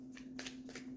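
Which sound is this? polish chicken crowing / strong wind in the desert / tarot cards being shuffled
tarot cards being shuffled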